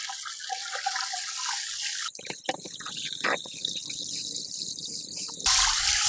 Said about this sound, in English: Drain this water and you don't want any cold water